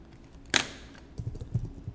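Keys clack on a computer keyboard, one sharp loud stroke followed by a quicker run of softer taps, close and alone.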